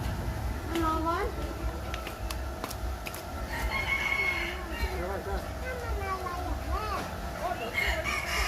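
A rooster crows among other chickens clucking, with several short calls rising above a busy background while people talk nearby.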